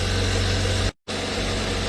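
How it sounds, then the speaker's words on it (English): A car engine idles steadily after being started, a constant low rumble and hum that drops out abruptly for a moment before resuming at the same level. "Okay, let's turn on the engine."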